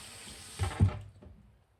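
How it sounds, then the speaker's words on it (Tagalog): Water from a kitchen faucet splashes over onions being washed in a sink, building to a brief louder gush in the middle before fading away to quiet. "And then we're going to wash."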